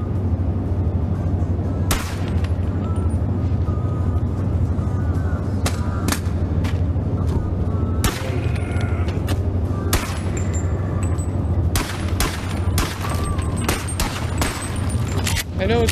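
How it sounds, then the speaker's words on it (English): Gunshots in the VR video game Bonelab on Quest 2, a string of sharp, loud cracks fired at irregular intervals, some in quick pairs, over a steady low background hum. "See how the shooting works in Quest."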